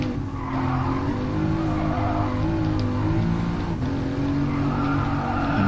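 A Mercedes-AMG Formula One safety car lapping the Catalunya circuit, its engine droning loudly and steadily with shifting pitch as it accelerates, alongside sustained tire squeal through the corners.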